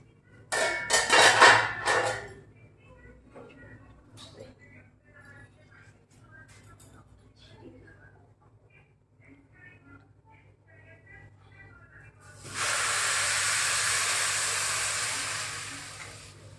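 Water poured into a hot pot of pulao bursts into a loud, steady hissing sizzle lasting several seconds, preceded by metal pot clatter and quiet talk in the kitchen.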